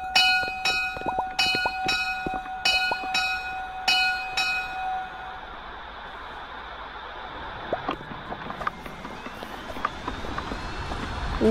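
A city tram rings its bell in a rapid series of clanging strikes, then pulls away with a rising electric whine and rumble, fading while wheels knock over the rails.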